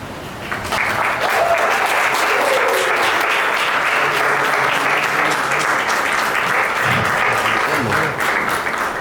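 An audience at a TV serial launch event claps loudly and steadily for about eight seconds. The applause is a dense, even wash of many hands, with faint voices mixed in underneath.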